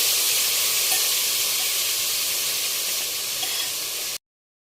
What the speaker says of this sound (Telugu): చేసి పెట్టినటువంటి చికెన్ మిక్స్చర్ ఉందో దాన్ని మనం పూర్తిగా దీంట్లో వేసేస్తున్నామండి.